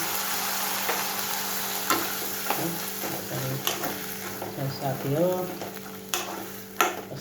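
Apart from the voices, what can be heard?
chickpea masala frying and being stirred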